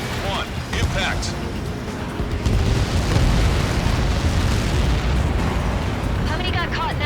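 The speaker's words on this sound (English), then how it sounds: "How many got caught in that explosion?" A massive blast in the flight combat game Ace Combat 7 rolls out as a deep, sustained rumbling roar that swells and lingers for several seconds, with radio voices and bright electronic chirps layered over it.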